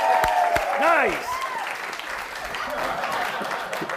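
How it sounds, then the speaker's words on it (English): Audience clapping at a yo-yo trick show, a brief round of applause mixed with voices and cheers, under a performer's talk at moderate loudness. "give him a round of applause"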